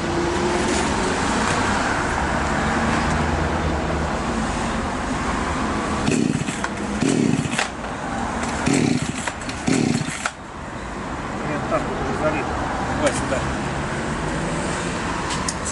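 A Champion chainsaw engine runs close and loud with a continuous buzzing drone, dipping briefly in the middle as it bogs and recovers, then settling back into a steady idle-to-running roar.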